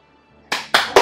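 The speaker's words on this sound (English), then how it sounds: "after the game, you clap if they followed the order" Three sharp, close claps in quick succession from the WarioWare video game after a microgame, each louder than the last, following a near-silent pause.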